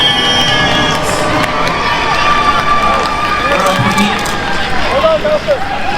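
A concert crowd cheers and shouts loudly and continuously throughout, a dense wash of whoops and applause-like roar filling the space with a few voices standing out near the end.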